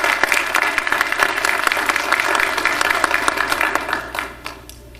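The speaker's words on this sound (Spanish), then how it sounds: "Un aplauso, por favor." An audience at a law congress breaks into steady applause, many hands clapping together up close, which fades out over the last second.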